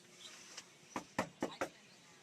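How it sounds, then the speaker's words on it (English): Four knocks on a house door in New London, Connecticut, sharp and close, spaced unevenly over about a second and sounding alone against quiet background. "I'm knocking at Casey's door."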